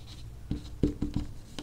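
A few quick scratchy strokes of someone writing on a board during a physics lesson on kinetic energy, faint and close, in a brief irregular series.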